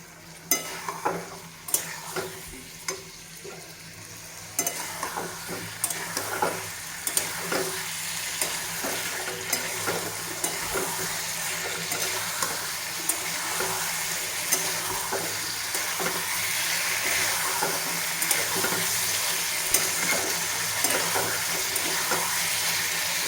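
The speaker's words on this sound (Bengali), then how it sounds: "আর এই দেখো উচ্ছেটা ভাজবো।" Bitter gourd fries in a pan with a steady sizzle that builds over time, punctuated by frequent sharp clicks and scrapes of a spatula stirring against the metal.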